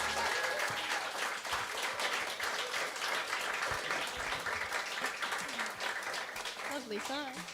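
Festival crowd applauding musicians at an outdoor campfire gathering, steady sustained clapping throughout with some voices and music mixed in underneath.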